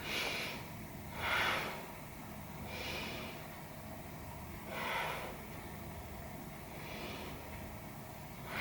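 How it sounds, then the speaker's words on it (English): Slow, deep yoga breaths repeat at a steady pace, with about four soft, breathy swells, close but faint, over a quiet background. "Take 3 big breaths."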